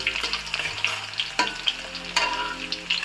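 Chopped garlic frying in oil with browned ginger for a Bengali olive pickle, crackling close and loud with clattering stirs and a few sharp utensil knocks, no voices.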